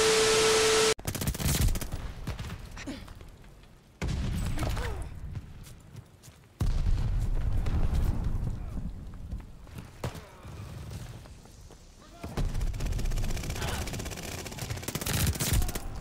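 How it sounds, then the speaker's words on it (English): Rapid submachine gun fire in the video game Call of Duty Vanguard, several loud sustained bursts separated by short pauses, with a player talking over parts of the action. "It's literally insane how good this submachine gun is as an assault rifle."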